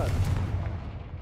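A Confringo blasting spell goes off in Hogwarts Legacy, a loud, close low boom with a crackling burst that rolls on and fades over about a second.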